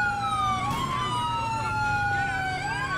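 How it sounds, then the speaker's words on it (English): Several police car sirens wailing at once in the LCPDFR police game on a snowy road, overlapping rising and falling tones that sound loud and close over a low engine hum. "tell backup they can cut their sirens"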